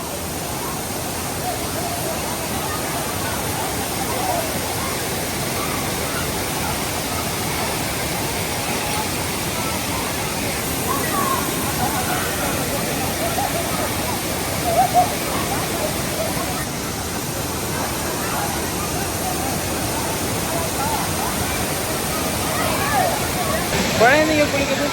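Thiruparappu waterfall pours forcefully in a constant, loud broadband roar with faint voices of bathers mixed into the rushing water throughout.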